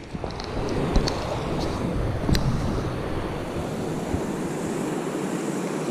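The Hamilton Branch river in Plumas County rushes steadily in a broad, continuous wash, with wind buffeting the microphone and a few faint clicks, no voices.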